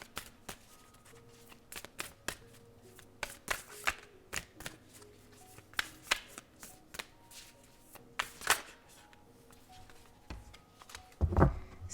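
Starseed Oracle cards being shuffled by hand, a run of quick crisp riffling snaps and soft slaps at close range, quiet between bursts, with a heavier rustle and thump near the end.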